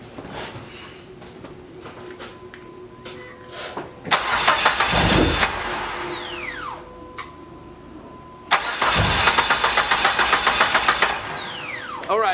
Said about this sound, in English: start it up, and let it run until it shuts off